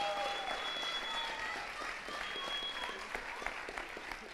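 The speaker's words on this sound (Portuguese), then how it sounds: "Uma salva de palmas ao Senhor pela vida do Tony." A church congregation gives sustained applause praising the Lord, dense steady clapping from many hands filling the room for several seconds, with faint voices mixed in.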